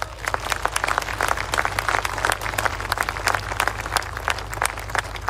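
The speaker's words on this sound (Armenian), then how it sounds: "մի հատ բարձր ծափարություններ" Loud, sustained applause from an audience at a political speech, dense clapping that keeps going evenly throughout with a low rumble beneath it.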